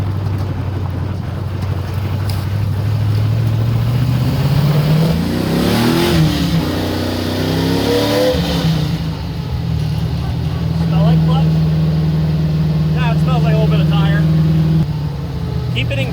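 A Nissan 240 car engine revs up and holds steady, its tone climbing and settling while the car is checked for transmission noise, with voices murmuring underneath.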